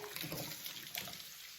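Running water rinses an air fryer basket from a Cosori 6.4L Dual Blaze air fryer under a sink tap, a steady close splashing wash that lasts the whole moment with no voices.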